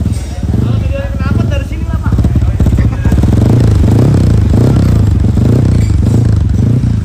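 A Kawasaki KLX 150 supermoto with a bored-up engine idles loudly and close by, a deep, steady bassy thrum with slight rhythmic pulsing, while someone talks over it.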